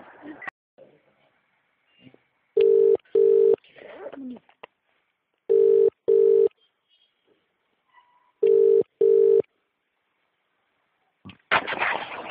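Repeated telephone ringing tone, three bursts of two steady rings each, clear and fairly loud on a phone call from Malshiras taluka, with speech and noise in the pauses between them.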